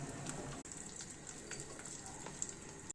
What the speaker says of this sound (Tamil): இப்போ அந்த மீன் பொரிச்ச எண்ணெயிலே கொஞ்சம் தேங்காய் எண்ணெய் சேர்த்துக்கிறேன்